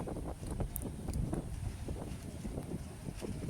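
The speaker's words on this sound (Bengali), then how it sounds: "এখানে এত হাওয়া দিচ্ছে যেতেই পারা যাচ্ছে না সমুদ্রের ধারে" Strong wind at the seashore of Gopalpur beach buffets the microphone in continuous gusty rumbles, loud and close, with a broad rushing roar of rough sea behind it.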